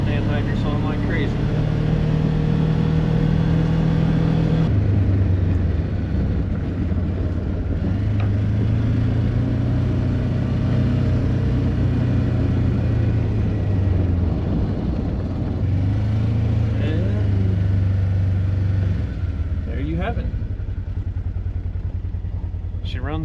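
A Polaris Ranger with a swapped engine idles and runs steadily, a close, loud low rumble with slight shifts in pitch as the revs change, a voice speaking briefly over it.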